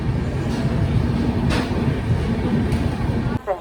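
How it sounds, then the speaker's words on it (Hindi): The Kathgodam Dehradun Express rolls into Moradabad station with a steady loud rumble and rattling of wagons, a continuous low roar with faint clacks throughout. "अपनी ट्रेन पहुंच चुकी है पीतल नगरी मुरादाबाद रेलवे स्टेशन"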